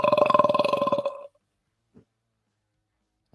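A long, loud, rumbling burp lasting just over a second, close to the microphone, followed by near silence and a faint short sound.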